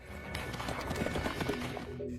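A horse gallops in a film scene as a fleeing pair escapes on horseback, with rapid hoofbeats running under a dense, loud soundtrack mix throughout.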